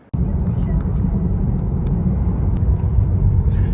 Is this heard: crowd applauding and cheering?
no